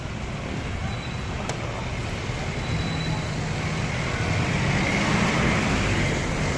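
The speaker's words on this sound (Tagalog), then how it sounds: "traffic pala dito" Road traffic rumbles steadily and loudly all around in a busy street scene, a continuous wash of engine and tyre noise with a brief faint horn-like tone, no clear voices over it.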